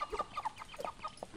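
Chickens in the video game Dead Samurai, clucking in a quick run of soft, close calls.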